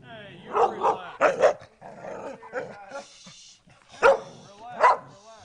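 Dogs, including a young puppy, bark in loud irregular bursts of single and double woofs close by, with people talking in between.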